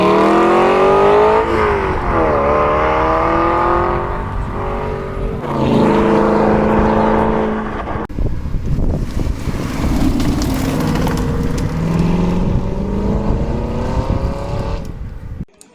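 A BMW i8 sports car at a supercar charity gathering revs loudly and accelerates, its engine note rising and falling through repeated sweeps close by, with wind buffeting the microphone.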